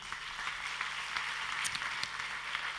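An audience at the Pyrénées Chance 2014 final claps along in a steady, moderately distant patter of many hands, with a few sharper individual claps standing out near the end.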